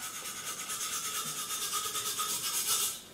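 Sandpaper rubs rhythmically along a tapered, rounded wooden tail boom for a model catapult-launch glider, making steady, close back-and-forth rasping strokes that continue without pause.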